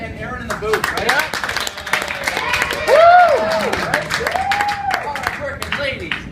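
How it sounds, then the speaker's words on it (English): An audience at a live improv comedy show claps and cheers for two people in the booth, a scattered applause that runs under an announcer's voice and briefly swells in the middle. "How about a round of applause real quick for Theresa and Aaron in the booth"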